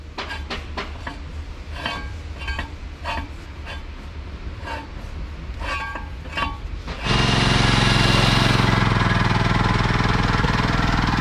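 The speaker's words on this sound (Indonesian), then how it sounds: "Mesin sudah dinyalakan" Sharp metallic clanks and taps as drill pipe is connected give way to a loud, heavy water-well drilling rig engine that starts abruptly and runs steadily with a constant roar.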